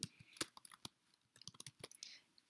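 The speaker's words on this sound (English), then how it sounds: "all you are going to type is introduction" Rapid, uneven clicks of typing on a laptop keyboard, close and fairly quiet, in short bursts separated by brief pauses.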